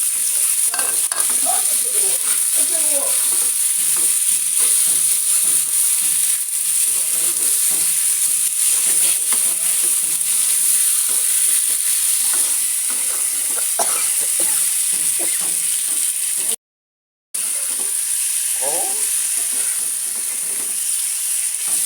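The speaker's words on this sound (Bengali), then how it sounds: "আমরা এখন টমেটোটাকে একদম ভাজা ভাজা করে নেব" Tomatoes sizzle with fried spices in a hot pan for a puti fish curry, a steady hiss broken by repeated scraping and stirring sounds, loud and close.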